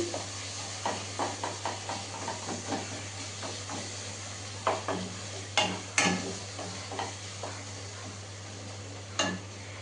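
Spices sautéing in a pan with a little salt, a soft steady sizzle and hiss under periodic scraping stirs and a few sharper clinks, fairly quiet and close, with a steady low hum underneath.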